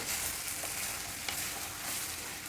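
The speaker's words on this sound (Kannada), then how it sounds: "ಈಗ ಒಂದು ಹತ್ತು ನಿಮಿಷದಷ್ಟು ಫ್ರೈ ಮಾಡಬೇಕು ತರಕಾರಿಗಳನ್ನೆಲ್ಲ" Mixed vegetables and peas fry in an oil-tempered pan for vermicelli biryani, a steady close sizzle with faint stirring scrapes and no voices.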